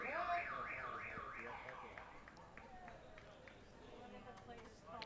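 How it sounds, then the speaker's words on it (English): A warbling, car-alarm-style siren rises and falls loudly over the first seconds at a Jupiter Hammerheads minor league baseball game, then fades into crowd ambience with scattered thumps while a commentator talks throughout. "That car alarm sound, I think, fooled a lot of people in the stands."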